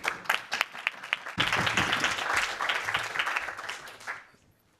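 Conference audience applause, scattered claps at first that swell into a dense burst of clapping, then thin out and fade to near silence.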